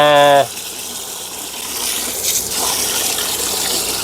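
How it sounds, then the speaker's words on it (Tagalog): Water gushes steadily into an organic garden fertilizer mix, a broad close splashing pour that follows a brief tonal hum at the start and continues alone for several seconds. "Lalagyan ko siya ng tubig."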